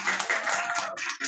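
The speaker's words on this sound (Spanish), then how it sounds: "Un aplauso a Naloa." A short burst of audience applause for a girl at an educators' community gathering, a dense patter of clapping from many hands throughout, fairly close and without speech.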